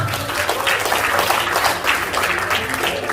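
Loud, continuous applause from an audience at a seminar in Denpasar, Bali, a dense wash of many hands clapping without pause.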